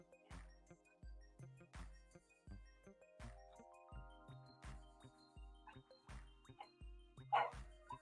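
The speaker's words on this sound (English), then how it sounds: "My dogs are howling like it's like they're a pack of wolves." Several dogs howl and yowl together in long rising, wavering tones, close by, with sharper yips breaking in among the steady chorus.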